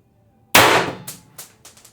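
A single sharp, loud shot from an IntruBuster Gen 2 launcher with a factory barrel and Pistelle X-68 internals, bolt and valve bursts out close by, then tails off into a few quick rattling echoes.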